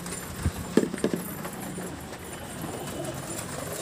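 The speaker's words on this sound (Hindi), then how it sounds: "देखिए दोस्तों किस तरीके दस कबूतर दाना उठा रहे।" Pigeons pecking up grain, a short cluster of quick soft taps early on, then only quiet background.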